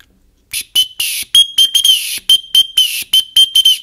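A shrill whistle on a Wenger Survivor Swiss Army knife blown in a quick series of short, loud blasts, close by, with tiny gaps between them.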